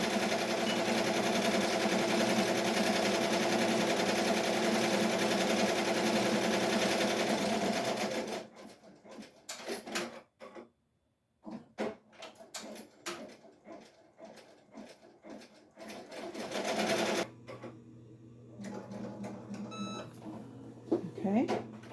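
An embroidery machine stitching a Halloween shirt hums loudly and steadily, then stops, and is followed by intermittent clicks and handling noises with brief talk.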